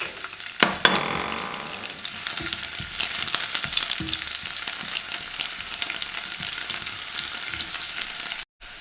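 Garlic crackling and frying in a hot pan, a dense, steady sizzle running continuously at close range, with a couple of sharp clinks near the start and a brief cut-out just before the end.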